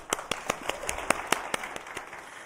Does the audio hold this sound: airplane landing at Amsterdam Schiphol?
no